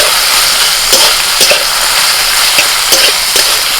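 Water lily stems fry loudly in a pan of hot oil, a dense, steady sizzle with occasional stirring scrapes and pops, close and alone.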